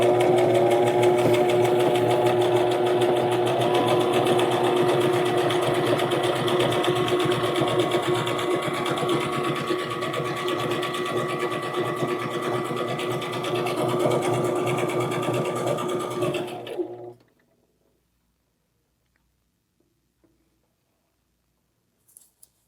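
A Brother XM2701 sewing machine runs steadily with the pedal held down, a fast even whirring stitch rhythm close up for about sixteen seconds before it stops abruptly into near silence.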